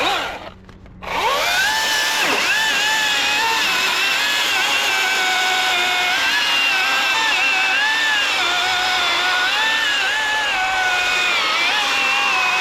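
A battery-powered chainsaw spins up after a short pause and then cuts steadily through a big piece of wood, giving a loud, close, continuous high whine whose pitch wavers as the chain loads and frees.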